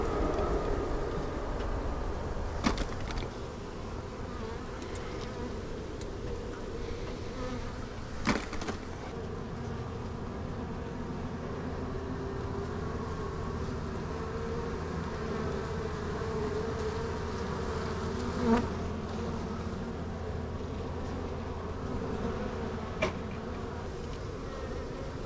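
A scooped-up swarm of about 30,000 bees buzzes in a dense, continuous drone that holds steady for the whole stretch, with a few brief clicks and knocks over it.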